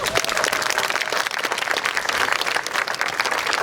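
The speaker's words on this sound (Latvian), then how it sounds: "Dāmas un kungi, viņi ir pelnījis jūsu aplausus." Audience at a Karosta anniversary ceremony gives dense, sustained clapping, loud and steady for the whole stretch with no talking over it.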